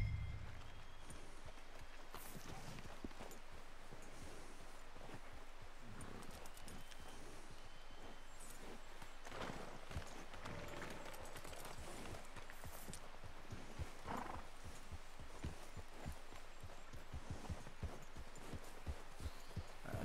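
A horse galloping in Red Dead Redemption 2, quick rhythmic hoofbeats running steadily under faint rain-like ambience, fairly quiet and continuous throughout.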